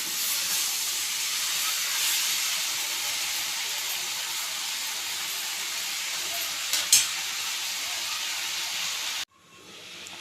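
Coriander chutney ingredients sauté in a pan with a continuous loud hissing sizzle and a brief stir scrape near the end, then the sizzle cuts off abruptly.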